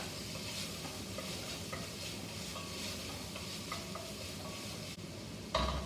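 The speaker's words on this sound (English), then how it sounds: "really important that we saute these onions really well, break them down a little bit." Onions with ginger sauteing in a pan for beef chilli, a steady hissing sizzle with occasional utensil scrapes and a sharp clatter right at the end, no talking.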